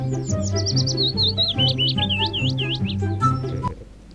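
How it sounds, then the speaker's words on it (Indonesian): A bird chirping sound effect plays in Adobe Audition, a rapid series of bright, clear chirps and sweeping tweets over a steady low tonal bed, ending abruptly. "ini efek burung-burungnya"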